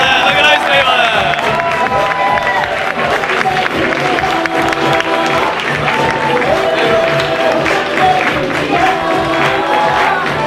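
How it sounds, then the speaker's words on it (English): A packed audience at a Pakistan-versus-India stand-up comedy contest claps and cheers for the Indian comedy team, a loud, continuous roar of applause with whoops and crowd noise filling the whole stretch. "And now we've got a huge round of applause, please, for Team India"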